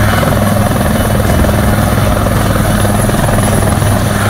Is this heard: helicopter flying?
yes